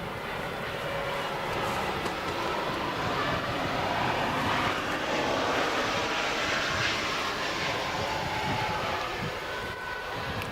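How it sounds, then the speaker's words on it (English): An airplane passes over an outdoor wheelchair tennis venue near the Orlando airport, its engine a loud, steady broadband roar that fills the whole stretch without letup. "we will be inundated with airplane traffic throughout the length of our coverage"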